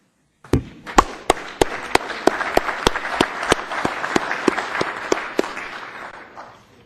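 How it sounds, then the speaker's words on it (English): Audience at a city council special meeting breaks into applause, starting abruptly after silence and building into a thick patter with sharp individual claps standing out at a steady beat, then easing off near the end. "Now when you applaud."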